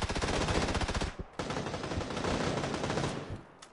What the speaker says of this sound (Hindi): मेरे गोलियां पड़ रही है